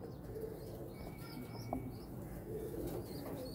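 Golden pigeons of the Imam Din breed cooing softly against a steady, noisy background, with faint chirps and a brief flutter of wings, fairly close.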